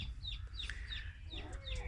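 Farm chickens clucking in a coop, several birds giving short repeated clucks and calls over a steady low background hum, fairly faint and continuous.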